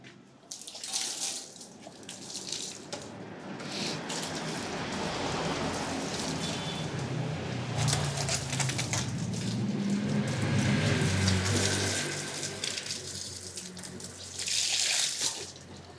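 Water sprays onto a dusty bike to wet it before washing, making a continuous hissing, splashing rush that swells and fades as the stream moves across the frame.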